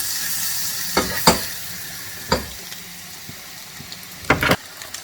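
A tablespoon of cornflour frying and browning in hot oil, a steady close sizzle broken by a few sharp stirring scrapes and clinks.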